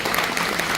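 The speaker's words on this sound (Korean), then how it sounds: "우리 열심히 공부하신 박수 한번 쳐주시기 바랍니다." A seated audience claps together at a Korean labour lecture on workers breaking from the United States. The applause is dense and steady, holding for the whole short stretch without voices.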